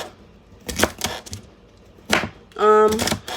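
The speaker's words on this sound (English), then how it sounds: "what I'm doing now is dicing them" Knife dicing vegetables on a cutting board in a kitchen, a few sharp close chops in quick bursts with short pauses between them.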